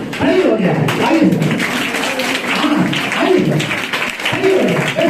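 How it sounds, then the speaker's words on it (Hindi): An audience of schoolgirls applauds to welcome a guest at an indoor career counselling session, a sustained patter of clapping under loud talking from the stage. "मैं चाहूंगा बच्चियां खड़ी हो जाए, तालियों के साथ आपका स्वागत करें"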